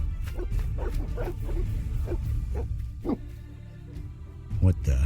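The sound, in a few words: dogs barking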